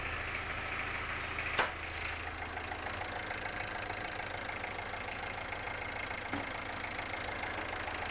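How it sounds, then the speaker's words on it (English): A car engine idles steadily with the bonnet up while a flat battery is being diagnosed, a low even running sound with a single sharp click early on, heard close with no talk. "While the engine's still running, I'm just going to test the alternator"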